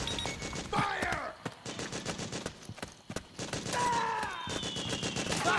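Rapid gunfire bursts from the video game Metal Gear Solid 4: Guns of the Patriots, dense repeated shots cracking through a busy battle mix with shouted voices and other effects layered over them.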